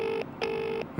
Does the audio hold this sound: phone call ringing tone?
yes